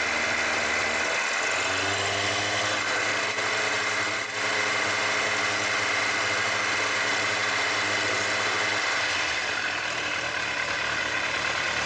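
Kawasaki ZZR1100 motorcycle engine held at a steady 2000 rpm during restoration work, a continuous close, even mechanical hum with a slight dip partway through, no voices over it.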